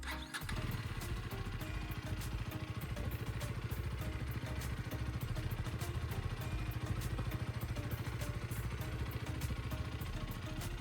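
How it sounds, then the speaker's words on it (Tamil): A KTM Duke 250 motorcycle engine cranks and fires, then settles into a steady, loud idle with a fast, even thump that holds close and constant throughout. "ஓகே ஓகே, நான் ஜஸ்ட் உங்களுக்கு ஒரு ஸ்டார்ட் பண்ணி காட்டுறேன்னு."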